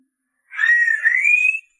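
A single loud, rising whistle from a brash man calling a group over during a street confrontation, one continuous tone of about a second with no talk over it.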